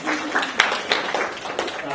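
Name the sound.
round of applause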